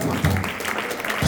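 A church congregation claps together in a brief burst of dense applause during a sermon, with voices mixed into the noise.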